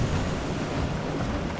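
Rushing water and waves wash loudly and steadily in the video game Fortnite, a dense unbroken surge filling the short moment with no speech.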